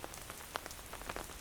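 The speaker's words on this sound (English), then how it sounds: "It seems the storm is only growing worse." Heavy rain from a storm patters steadily on a surface, with scattered louder drops and splashes over a continuous wash of noise, close and alone.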